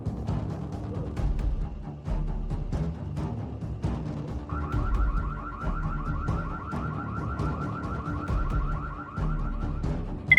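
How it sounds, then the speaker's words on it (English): A doorbell camera siren alarm wails outdoors, a rapid warbling electronic tone starting a few seconds in and repeating steadily for roughly five seconds over a noisy, rumbling background. "The doorbell camera lets out a siren alarm that eventually scares him off."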